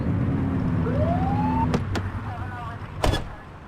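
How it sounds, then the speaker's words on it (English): Police car siren in a police video game, a short rising wail over a steady engine hum, followed by a couple of sharp clicks and a louder burst near the end. "Get behind them and flip the siren to make them pull over."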